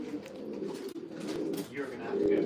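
Racing pigeons coo steadily in a low, soft murmur as they are packed into baskets for a race at Honiton, with faint background chatter and rustling.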